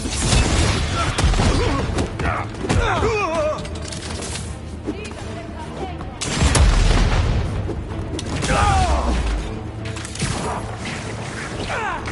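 Gunfire and heavy impacts in Spider-Man 2, booms, crashes and thuds bursting loudly in waves, with voices calling out between the blasts.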